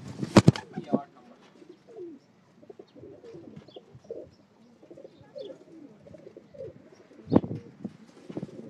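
Pigeons coo softly in low, throaty rolling phrases, close by, opening with a burst of wing flaps and another flutter near the end.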